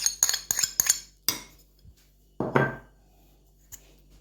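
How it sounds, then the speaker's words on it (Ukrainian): Several sharp metallic clinks and taps in quick succession, then a soft scraping stir as cheese is mixed with a spoon, with a faint clink near the end; no voices. "Оцей сир сюди вимішую, додаю сюди часник"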